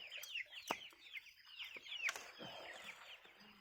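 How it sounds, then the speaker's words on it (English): Chickens cluck and squawk close by in a series of quick, chattering calls with a few sharp bursts, in a quiet farmyard with no talking. "chasing away all the other chickens"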